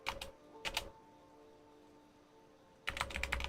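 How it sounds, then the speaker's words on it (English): Bursts of computer keyboard typing: two short clusters of quick keystrokes near the start, a long quiet pause with faint background hum, then a denser run of rapid clacking keys at the end, close and clear with no talking. "If I just type help fire"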